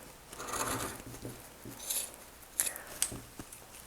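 Scissors cut through men's shirt fabric, giving close, soft crunching snips and rustling with a few sharper clicks of the blades.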